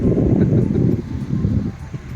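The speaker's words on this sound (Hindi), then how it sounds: "ठंडी ठंडी हवा चल रही है" Cold evening wind blowing through trees, a close, loud gusty rustle and buffeting that eases off after the first second, with no talking.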